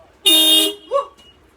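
A car horn triggered by a remote blares once, loud and close, for about a third of a second, followed by a short, softer chirp, with no talking.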